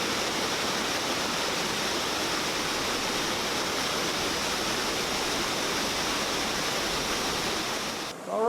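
Steady, loud rush of water flowing at the Weisenberger Mill, a water-powered flour mill built in 1865 in Midway, Kentucky, a continuous broadband roar that holds unbroken and drops off abruptly near the end.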